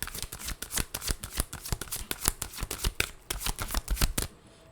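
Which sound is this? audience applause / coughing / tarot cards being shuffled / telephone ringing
tarot cards being shuffled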